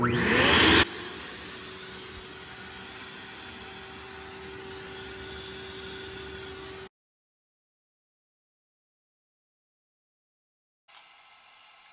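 A wet/dry shop vacuum works as a reverse blower with its hose fitted tight, starting with a loud burst and settling into a steady close whoosh for several seconds before shutting off, followed by silence.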